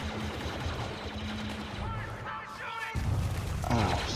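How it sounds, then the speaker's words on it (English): Blaster gunfire in Star Wars Battlefront II, a steady wash of distant shots under constant game noise, growing louder and denser near the end. "I'm gonna shoot you in the face."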